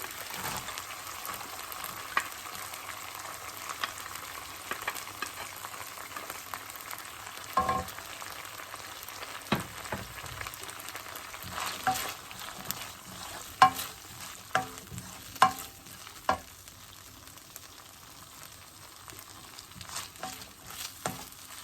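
Chopped onion frying in a pan for a Maharashtrian zunka-style dish, a steady soft sizzle with scattered scraping stir clicks growing more frequent toward the end.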